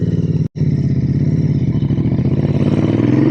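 A Royal Enfield Interceptor 650 twin engine runs loud and close, its throbbing pulse briefly cut off once and then picking up pace as it revs.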